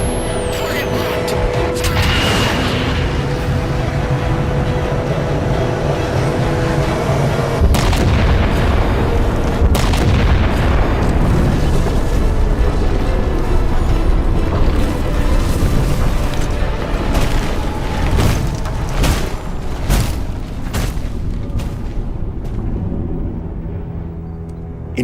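Heavy booming explosions from a strike on a painted target in the Halo 4 video game. Loud, continuous rumbling blasts with deep low-end roar and crackling debris fill the whole stretch, with game dialogue voices mixed in.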